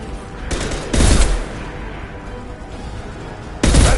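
Loud gunfire from Mass Effect 2, three heavy bursts of shots with a low rumbling backdrop between them.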